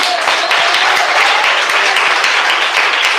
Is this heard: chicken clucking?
no